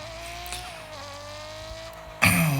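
A car tuned for drifting in the Car Parking video game, a sustained engine drone with a rising tire squeal that breaks into a loud, harsh skid at the end.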